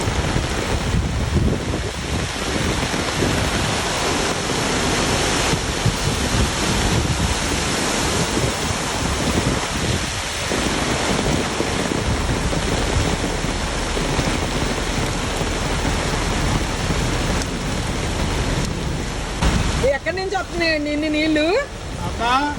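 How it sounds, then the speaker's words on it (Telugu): Rainwater rushes over a road during a windy hailstorm, making a loud, unbroken, broadband roar of flowing water and rain with wind buffeting the microphone, and voices are heard toward the end. "రోడ్డు మీద నుంచి ఇన్ని నీళ్లు ఇట్లా వస్తున్నాయి"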